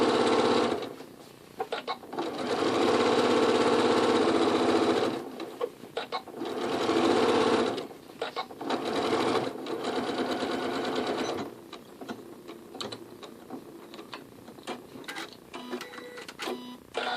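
A sewing machine stitches a seam on a doll's skirt in several close, loud bursts of rapid mechanical chatter, separated by short pauses and quieter handling noises.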